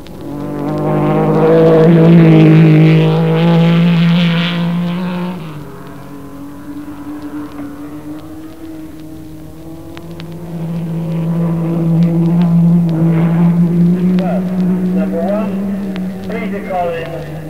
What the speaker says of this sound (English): the typical note was recorded in the British Grand Prix at Silverstone, where Peter Collins led from the line